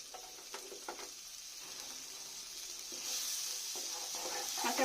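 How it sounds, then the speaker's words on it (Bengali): Mixed vegetables and green chili sizzling in a hot pan, a steady hiss of frying with occasional stirring scrapes, growing slightly louder toward the end, no voices. "একটু হালকা করে আমি ভেজে নেব সব সবজিগুলো। কাঁচা লঙ্কাটাও দিয়ে দিলাম।"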